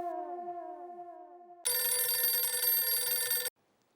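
A mobile phone ringtone in a TV sitcom sounds after a short stretch of sliding tones, then rings loud and steady for about two seconds before cutting off abruptly.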